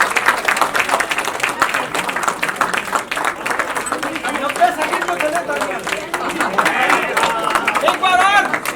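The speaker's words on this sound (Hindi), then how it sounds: "तालियां।" A crowd applauds during a birthday cake cutting at a book launch gathering, continuous clapping mixed with busy chatter and voices talking over it, close and fairly loud throughout.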